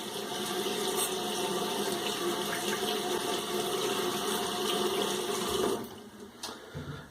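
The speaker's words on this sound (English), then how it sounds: "Rinse that off." Running tap water rinsing an alum block after a head shave, a loud steady close gush of water that cuts off near the end, leaving a few faint drips and handling sounds.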